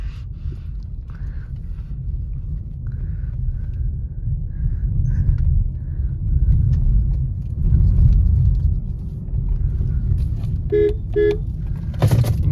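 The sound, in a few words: Suzuki Grand Vitara petrol car driving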